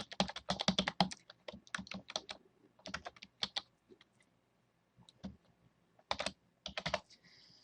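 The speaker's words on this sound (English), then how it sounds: "I'm going to press the enter key, and then I'm just going to type it exactly as it is in the instructions." Bursts of keyboard typing, quick clustered clacks in short runs with brief pauses, close and fairly quiet while entering a database query in Microsoft Access.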